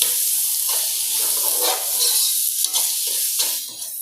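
Handfuls of coriander and mint stirred into frying ginger-garlic masala for chicken biryani, a loud bright sizzle with soft spatula sweeps and wet scraping, steady for a few seconds.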